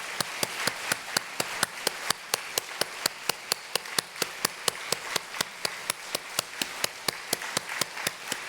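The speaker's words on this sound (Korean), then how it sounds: "우리 장로님들 하단하실 때까지 뜨겁게 박수해 주십시오." A church congregation claps steadily for its elders at a New Year's Eve service, a dense, even stream of sharp hand claps filling the room for several seconds, with no voices over it.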